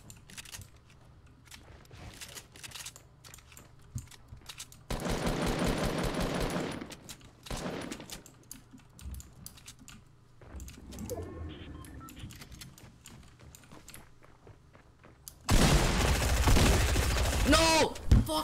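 Shotgun fire in a video game: rapid, loud bursts of blasts in two main volleys with sparse clicks and scattered shots between them, close and punchy.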